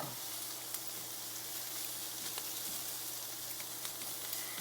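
'Nduja Calabrian chili paste sizzles gently in olive oil, a quiet, even frying hiss with occasional tiny pops and ticks and a low steady hum beneath.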